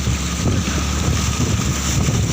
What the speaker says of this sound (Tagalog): Sobrang lalaki pong mga alon